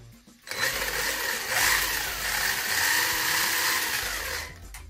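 A WLToys RC car's brushless motor, run through a Hobbywing EZRUN MAX10 ESC, is throttled up into a loud, steady high whine that holds for about four seconds before dropping away.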